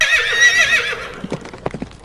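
Horses neigh in a long, bright whinny at the start, then several hooves clop in an uneven rhythm close by, in a Western setting near a rocky outcrop.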